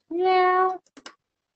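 Rambo the pet cat gives one loud, close meow drawn out for about a second, then a few faint short sounds follow in otherwise quiet surroundings.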